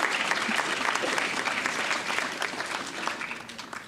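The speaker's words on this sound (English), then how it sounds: "We can still give him a round of applause" A hall audience at a National History Day awards ceremony applauds a prize winner, with steady, dense clapping throughout and the clap level easing slightly toward the end.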